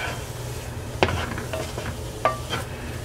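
Onions sauté in a pan with a steady low sizzle, punctuated by a couple of sharper clinks and scrapes from a utensil stirring against the pan.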